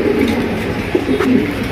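Pigeons of a breeding pair kept for sale coo steadily with low, throaty repeated calls at close range, a continuous rolling murmur with no talk.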